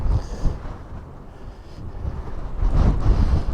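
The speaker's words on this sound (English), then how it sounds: "Right, there's a bit of a wind blowing." Wind gusting at night in a forest, a low rumbling buffet against the microphone that swells and eases, loudest toward the end, with no talk.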